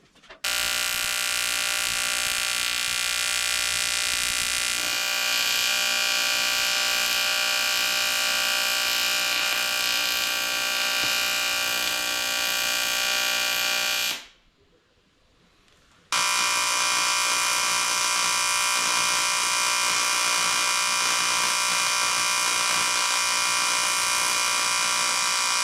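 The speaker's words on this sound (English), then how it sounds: "Ready to weld." Welding on a pop-up camper frame gives a loud, steady buzzing arc that runs unbroken for about fourteen seconds, stops briefly, then starts again and carries on to the end.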